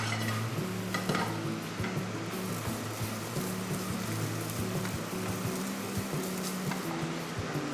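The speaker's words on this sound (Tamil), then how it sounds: "நாம் இப்போ இந்த தேங்காய் துருவலையும் அருமையான ஒரு கலரில் ரோஸ்ட் பண்ணிருக்கோம்" Grated coconut roasting to golden brown in a pan, with a steady sizzle and repeated scraping stir strokes throughout, close and moderately loud, with no talking.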